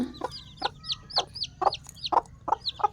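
A hen clucks in a quick, repeated series of short, sharp calls, close and fairly loud, over a quiet background.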